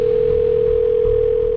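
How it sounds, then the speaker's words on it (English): A steady electronic telephone tone sounds loud and continuous without a break, alone and with no talking, in a documentary setting. "Phone ring."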